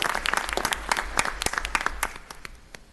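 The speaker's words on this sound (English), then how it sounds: "We'll give you a little bit of a round of applause" Applause for a person whose name was just called at a city commission regular meeting: a short burst of scattered, fairly close hand claps from a small gathering, thinning out toward the end.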